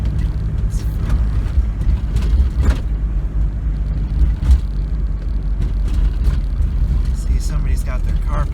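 A 1986 Ford Escort diesel wagon drones on a test drive with a low, steady engine rumble and cabin noise, a few faint knocks and bumps scattered through.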